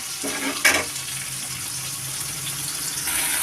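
Chicken curry ingredients fry in hot oil, a steady close sizzle with one brief clatter near the start and a brighter hiss building toward the end, with no talk.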